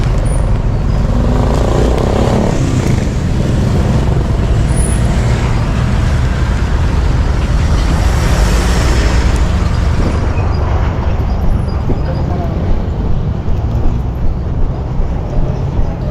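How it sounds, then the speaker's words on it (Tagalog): Heavy, continuous road traffic with many cars, buses and trucks passing, a steady loud roar with an air brake hiss among the engines. "Daming sasakyan ah."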